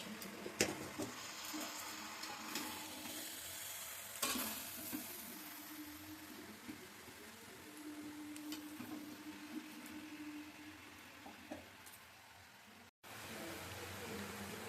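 Potatoes sautéing with spices in a pan, a steady quiet sizzle with intermittent scraping stirs and a few sharper knocks against the pan, heard close up.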